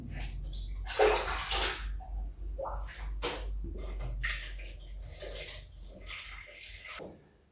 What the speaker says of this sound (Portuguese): agora eu vou pegar a água e vou colocar 1 litro de água aqui no potinho